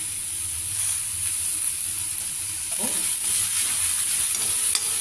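Chopped green chillies and curry leaves frying in hot oil in a pan with lentils, a steady close sizzle with occasional stirring scrapes and clinks.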